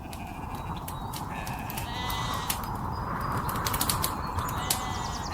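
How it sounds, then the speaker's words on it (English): Sheep bleats layered over a steady wind bed in a film sound design mix, with scattered short bleats and flutters rising above a constant broadband whoosh, no speech. "so let me just reduce the sheep sound."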